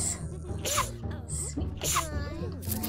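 In the Haunt the House: Terrortown video game a ghost sneezes twice, two sharp bursts about a second apart, heard over steady background music and game sounds.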